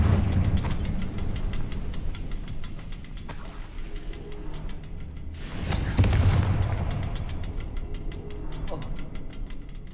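Confringo fire spells cast in Hogwarts Legacy, two loud broadband blasts a few seconds apart over a continuous low rumbling game background, with no talk.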